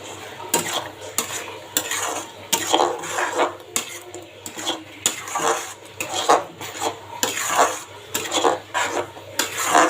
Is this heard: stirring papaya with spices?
yes